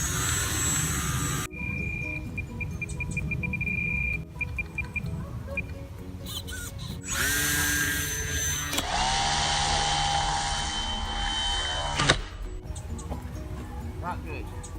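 A small scratch-built RC biplane's electric motor whines steadily at close range during a test flight attempt, its tone rising and shifting as it revs, with a sharp cut-off near the end and people talking over it.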